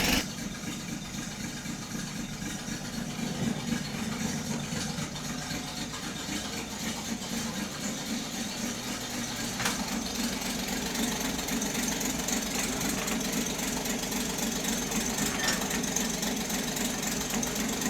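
A 1967 Ford Mustang V8 runs steadily after being cranked, with a continuous mid-pitched engine rumble and a slightly uneven, knocking idle that carries on alone and fairly loud throughout.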